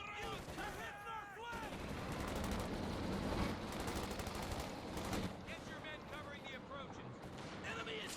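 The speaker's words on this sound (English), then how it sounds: "Another sniper shot there." Sniper rifle shots in Company of Heroes 2, a 1v1 match with Wehrmacht against US Forces, crack amid steady distant gunfire and battle noise, with a commentator talking over the din.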